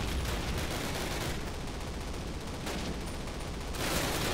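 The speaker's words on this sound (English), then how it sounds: "I don't appreciate rifle fire" Sustained gunfire from the Call of Duty 1 video game, a dense, continuous barrage of rifle and machine-gun shots close by, loud and unbroken for several seconds with no talk over it.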